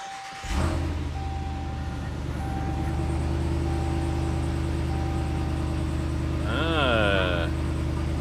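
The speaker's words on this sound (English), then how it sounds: "we're gonna start the truck for the first time with the air filter installed." A Power Wagon pickup fitted with an S&B cold air intake cranks and catches, settling into a low, steady idle rumble. An electronic chime sweeps over it near the end, and a voice speaks faintly.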